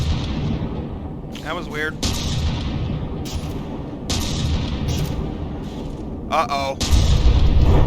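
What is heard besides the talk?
battleship guns firing in From the Depths video game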